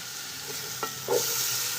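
Country chicken biryani masala with yogurt frying in a pan, a soft steady sizzle with a few scrapes and stirring clinks from a spoon, no voices.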